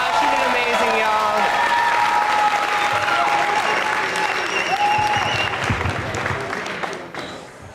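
Loud crowd applause and cheering for a climber at the Rabble Rouser 2025 climbing competition, a sustained burst with whoops and voices mixed in that fades toward the end.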